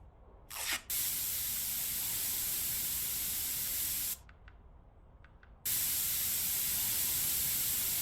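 Repair spray hissing onto holes in a car exhaust in a car dealer simulator game, a long steady spray burst, a short pause, then another sustained blast, close and loud with no talking.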